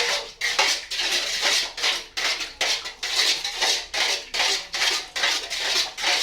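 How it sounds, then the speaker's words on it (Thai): A utensil scrapes and clinks rhythmically against a bowl while salt is stirred into pizza dough mixture, a repeated cycle of short strokes with no talk. "คนคนคนให้เขาเข้ากัน"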